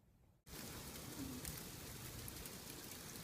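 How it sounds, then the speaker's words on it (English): Sleet and snow falling outdoors in Lower Alabama, a steady dense patter like rain on surfaces that starts abruptly after a brief quiet moment and continues evenly at close range. "Snow and sleet."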